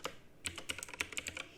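Quick typing on a computer keyboard, a burst of roughly a dozen light, close key clicks after a short pause. The clicks are faint and no one speaks.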